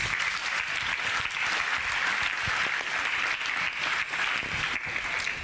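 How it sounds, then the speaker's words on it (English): A church congregation claps in praise during a Sunday confession service, a dense, continuous roar of many hands, steady and fairly loud with no talking over it. "Let us clap cheerfully for Jesus Christ."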